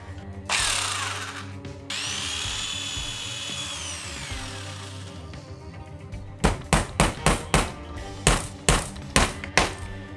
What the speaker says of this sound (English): Just drill a few holes so we don't crack any more wood.